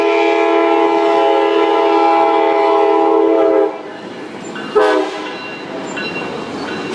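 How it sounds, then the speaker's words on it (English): A Tri-Rail commuter train at Pompano Beach station sounds a loud, sustained horn blast, then rumbles past with a brief second horn toot and ongoing rail noise, nearby and clear. "And this is the next tri-rail."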